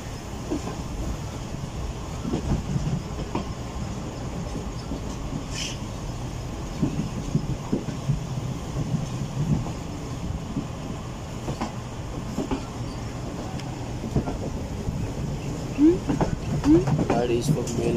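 The Karakoram Express rolls along the main line between Karachi and Lahore with a steady rumble and faint clickety-clack of wheels on rail, heard from inside with a few brief squeals and no talk.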